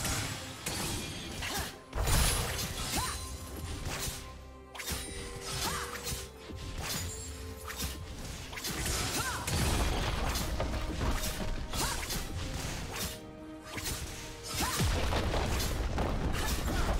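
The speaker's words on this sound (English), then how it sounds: "Red team's turret has been destroyed" Battle effects erupt as a turret is destroyed in the League of Legends video game, with repeated crashes, booms, whooshes and mechanical clanks in dense, irregular bursts, loud and busy with no talk.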